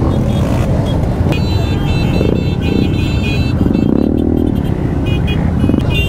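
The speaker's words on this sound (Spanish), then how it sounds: "muchas motos, muchas, pero muchas motos, la verdad." Motorcycle engines rumble and rev close by in a dense stream of a mass motorcycle ride at Mexico City's Monumento a la Revolución after a concert, with voices audible under the noise.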